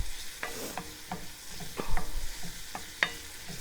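Onion and garlic fry in a pan, giving a quiet sizzle punctuated by repeated sharp scrapes and taps of a utensil stirring them around.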